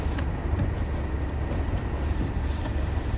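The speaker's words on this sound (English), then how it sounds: "Front of the train has just started going uphill, but the back of the train is still racing downhill." A Class 37 diesel locomotive hauling a freight train on the Tees Valley Line in Train Sim World, a loud continuous rumble of engine and wheels on track with no talk.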